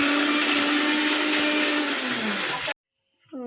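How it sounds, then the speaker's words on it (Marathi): A mixer grinder whirs loudly and steadily as it grinds masala for a homemade chicken dish, then cuts off abruptly, leaving a short faint tail of small household sounds. "रियाने मसाला वाटून घेतलाय."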